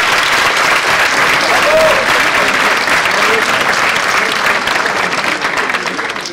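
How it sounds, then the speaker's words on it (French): Sustained, dense applause from an audience at a student competition final at Thales Avionics, loud and steady throughout before tapering slightly at the end. "On peut déjà les applaudir."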